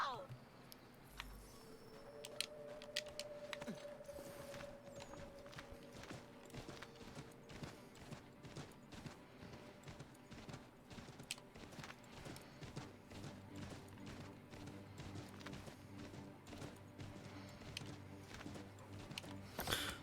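Horse hooves clip-clop steadily at low volume in the video game Assassin's Creed III, running under game characters' dialogue throughout.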